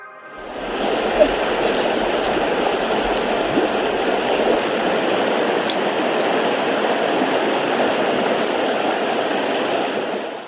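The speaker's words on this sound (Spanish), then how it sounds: "Este es el río donde ya van los 4 ríos" A river flows loudly and steadily at the meeting point of four rivers, the Listón, Río Negro, Río Cuyamel and Río Chiquito, a close, unbroken rushing wash that fills the whole stretch.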